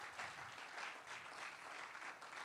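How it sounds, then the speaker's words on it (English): An audience at a church business roundtable applauds their pastor, a dense, even wash of clapping sustained across the whole short stretch without any speech over it. "Please let's put our hands together for our pastor."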